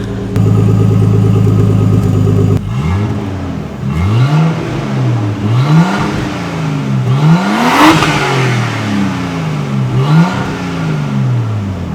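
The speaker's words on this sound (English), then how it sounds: "We're gonna let the car warm up before we give it some revs." A Nissan R32 Skyline engine runs steadily, then revs up and settles back down repeatedly in a regular rise-and-fall pattern, loud and close, with no talking.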